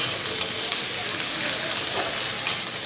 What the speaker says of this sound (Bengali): আর এখানে পেঁয়াজটা ভাজছি, পেঁয়াজটা ভালো করে ভেজে মাংসটা বসিয়ে দেবো।